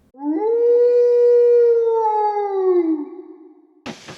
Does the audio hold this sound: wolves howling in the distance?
yes